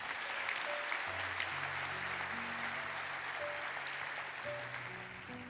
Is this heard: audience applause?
yes